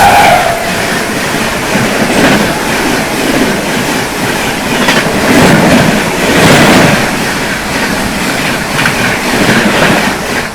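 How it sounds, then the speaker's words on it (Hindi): The New Delhi Ranchi Garib Rath Express rushes past at a crossing, a loud continuous roar of wheels and rattling coaches with faint clickety-clack, close by and steady throughout. "सामने से आ रही है दोस्तों न्यू दिल्ली रांची गरीब रथ एक्सप्रेस।"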